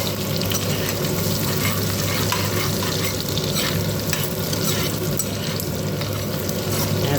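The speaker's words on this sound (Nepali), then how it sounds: "अब यसमा प्याज ओइदिएकी छु।" Chopped onions fry in a pan for a Nepali kadhi with okra, a loud continuous sizzle with stirring scrapes running steadily throughout, close up and without talk.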